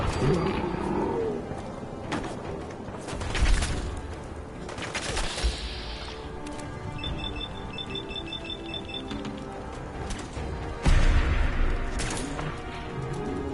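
Gunfire in the video game Fallout 4, with several sharp shots and bursts standing out over a busy mix of game effects and music, while a player talks throughout.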